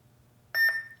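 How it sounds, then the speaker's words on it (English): A short electronic beep, two quick bright tones from a Nerf Stampede toy blaster with Blaster Core, sounding close and clear against near silence. "You hear a beep"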